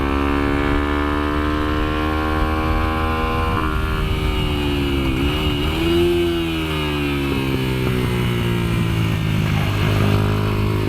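A highly modified Kayo MR125 motorcycle laps a kart track, its small engine buzzing loud and close with steady high revs, dipping and rising in pitch through gear changes and corners.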